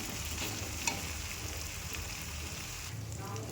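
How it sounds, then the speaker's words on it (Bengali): Chopped tomatoes hiss and sizzle in a hot pan while being stirred, a steady close frying crackle with soft scraping and no speech. "এরপর আমি দিয়ে দিয়েছি কুচিয়ে রাখা টমেটো। এরকম টমেটোটা ভালো করে মিশিয়ে নেব"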